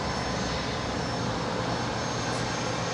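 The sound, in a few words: jet airliner departing at Los Angeles LAX airport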